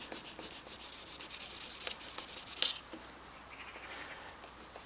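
Fine 1500-grit wet-or-dry paper rubs over the faded paint of a Toyota Carina E bonnet in quick back-and-forth strokes, a soft, close scratchy hiss that grows briefly stronger before easing off.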